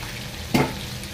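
Chivni and black fish sizzle while frying in hot oil, a steady close crackle with one brief louder burst in the middle.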